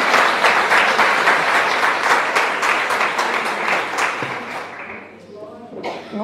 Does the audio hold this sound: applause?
yes